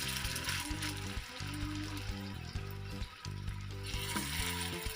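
Paneer kebabs fry one by one in hot oil and ghee, giving a steady sizzle under loud tonal background music that continues throughout.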